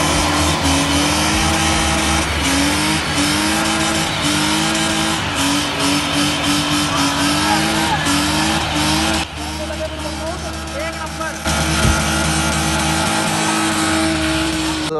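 A BMW car spins in place on a paved road, its tires squealing in loud repeated wavering bursts over a roaring engine for about fifteen seconds.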